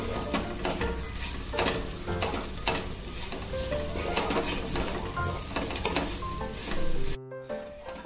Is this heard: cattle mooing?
no